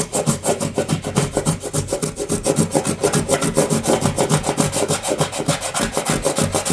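An object is scrubbed back and forth over a flat abrasive sheet that is taped down, making rapid, rhythmic rasping strokes. The strokes are close and even, repeat steadily throughout and have no voices over them.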